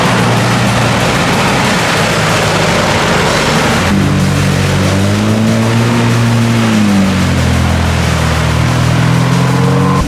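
A Lada Niva off-road vehicle drives on rough terrain with only three wheels gripping and a locked rear differential. Its engine roars loudly, and the pitch climbs, dips and climbs again as it revs.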